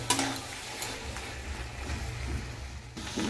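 Chicken sizzles in a pan over a high gas flame, a soft steady frying crackle with faint stirring scrapes, quiet and close with no talking.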